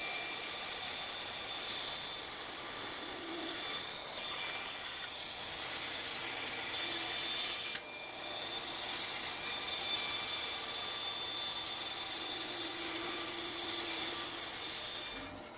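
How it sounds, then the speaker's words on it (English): A router softening the edges of a simple wood project, a sustained high-pitched whine with steady bright hiss lasting about fifteen seconds, close and loud, a brief dip near the middle, no voices. "Soften all the edges with a router"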